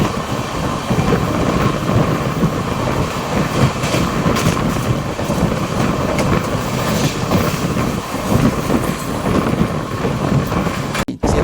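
An Amrit Bharat express train running at speed alongside another train, a loud continuous close rumble with rhythmic wheel clatter and wind roar, ending in a brief dropout.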